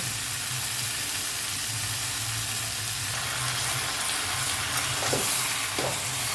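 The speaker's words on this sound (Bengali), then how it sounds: "এবার গুড়টা দিয়ে ভেজে নেবো" Sweet and sour mango pickle frying with jaggery in a pan gives a steady broad sizzle throughout, with a couple of brief stirring scrapes near the end.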